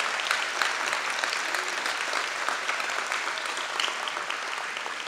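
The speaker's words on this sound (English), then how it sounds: "Please give all of them a round of applause." An audience gives Hall of Fame inductees a sustained round of applause, dense overlapping claps holding steady for several seconds at a moderate, slightly distant level.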